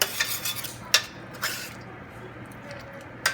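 Green curry with coconut milk being stirred in a pot, giving soft continuous scraping and swishing with a few sharper clinks of a utensil against the pot, close up and with no talking.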